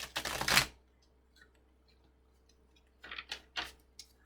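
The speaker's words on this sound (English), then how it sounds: "I'm going to do a quick shuffle here." A tarot-style deck of cards gets a quick shuffle: one riffle burst up close, a quiet pause, then several shorter shuffling bursts and taps.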